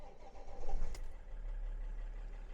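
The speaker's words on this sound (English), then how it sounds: "I'll just show you that the car is now starting up perfectly fine" A repaired car's engine cranks and fires into a steady idle, a low rumbling hum that swells briefly at the start and then settles into an even drone, heard fairly close.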